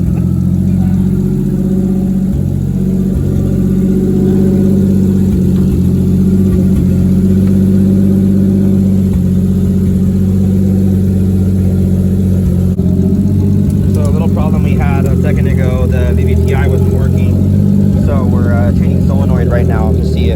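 A Toyota 2JZ engine swapped into an IROC Camaro runs steadily with a low, continuous engine hum and idle throughout, while people talk over it in the second half.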